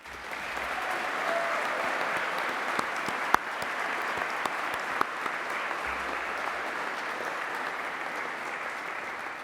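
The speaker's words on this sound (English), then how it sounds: "So let's have a round of applause for all the successes, past and present, of our staff and students and our partners." A graduation ceremony audience in a large hall claps in sustained, even applause, a broad wash of many hands with a few sharper individual claps standing out.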